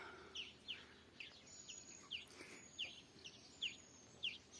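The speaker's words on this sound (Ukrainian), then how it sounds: "Засівши десь у холодочку, вітають новий день горобці." Sparrows greet the morning from a shady spot outdoors with short, bright chirps repeating roughly every half second, faint and somewhat distant against quiet background air.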